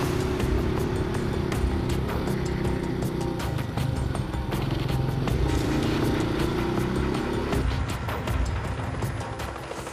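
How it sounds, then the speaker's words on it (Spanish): Motorcycles cross a bridge near Villa 31, their engines buzzing and whining in overlapping passes against a busy, clattering background of traffic noise, with no talk. "los únicos que terminan utilizando el puente son las motocicletas"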